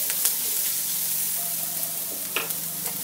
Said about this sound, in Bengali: এখন এটাকে 2 মিনিট মতো একটু ফ্রাই করবো,